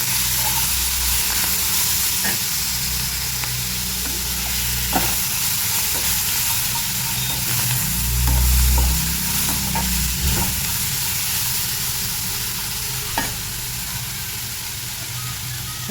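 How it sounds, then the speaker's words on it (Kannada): Cumin and tamarind roast in a pan for a tomato chutney, giving a continuous loud sizzle with scraping stirs and occasional clicks of a spatula against the metal. "ಜೀರಿಗೆ, ಹುಣಸೆಹಣ್ಣು ಹಾಕಿ ನೀಟಾಗಿ ರೋಸ್ಟ್ ಮಾಡ್ಕೊಳ್ಳೋಣ."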